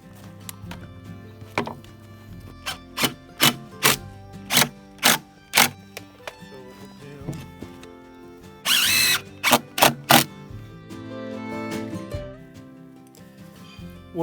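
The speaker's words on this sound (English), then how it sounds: "What we're doing here is using this jig to drill our holes through" A power drill with a 12-inch bit bores holes through massive cedar posts using a jig, sounding in a series of short, sharp whirring bursts close by, then a longer grinding run.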